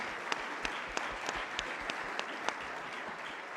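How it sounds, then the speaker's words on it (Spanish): A modest, fairly quiet round of clapping for panelists at an interdisciplinary research panel, steady throughout, with a few sharper individual claps standing out near the front. "Les pido un aplauso para nuestros panelistas"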